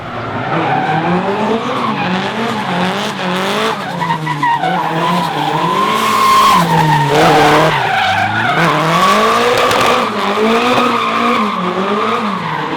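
Tires squeal and skid continuously as a drift car's engine rises and falls in second gear at a D1NZ drifting championship round in Whangarei, loud and close, with a wavering high screech over the revving.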